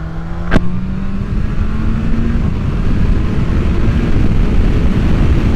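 Kawasaki Ninja 1100SX motorcycle with an upgraded aftermarket exhaust, a close loud engine drone with a brief sharp blip early on, under heavy wind rush.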